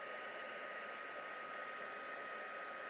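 A heat embossing tool blows steadily on its high setting over a stamped paper tag topper, giving a continuous loud whooshing hiss with no pauses and no voices.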